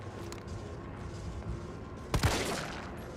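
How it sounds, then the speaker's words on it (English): Gunfire from the video game Resident Evil 3: a single sharp, loud shot bursts out over a quiet, low game ambience, then fades quickly. "Oh, I just shot him."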